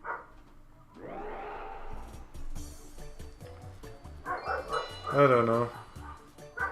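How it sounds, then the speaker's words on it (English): Dogs barking outside during a Mario Party 4 gameplay recording, a few sharp yips and barks popping up under game music and talk, one louder yelping burst near the end. "Dogs are barking outside."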